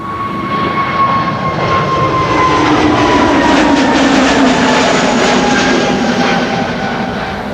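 An EasyJet jet departs Amsterdam Schiphol Airport, its engines a loud, sustained roar with a slowly falling whine as it climbs past at close range.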